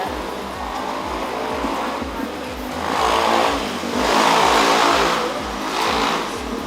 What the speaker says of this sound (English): And they just love those noisy motorbikes.